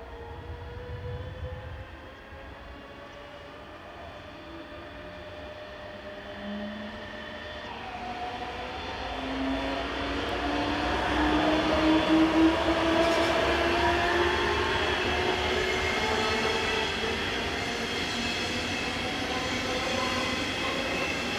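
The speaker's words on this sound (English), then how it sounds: "Class 146 electric number 241 pauses at the station powering the 1137 from Würzburg to Frankfurt am Main." A DB Class 146 electric locomotive stands at a station at the head of a Würzburg to Frankfurt am Main service, giving a loud, steady rumble with rising electric whine tones that grow stronger toward the end.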